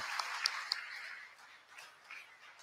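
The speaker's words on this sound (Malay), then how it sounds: "kami ingin anda untuk memberikan tepukan gemuruh kepada para pelajar dan peserta yang hadir pada hari ini" Faint applause comes from an audience at a school-level Malay poetry recitation contest, given for the students and participants. The clapping is soft and distant, with a few sharper claps at the start, and it thins out toward the end.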